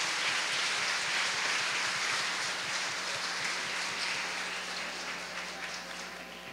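Warm applause from a Catholic festival audience for the priest, a steady wash of many hands clapping that slowly fades toward the end, with a faint low hum underneath.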